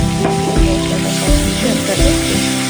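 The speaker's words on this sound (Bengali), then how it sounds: "আদা জিরে আর ধনের পেস্টটা বানিয়ে রেখেছিলাম সেটা ওর মধ্যে দিয়ে দিচ্ছি" Ginger, cumin and coriander paste frying in hot oil for ghugni, a close, continuous sizzle and crackle heard beneath a speaking voice.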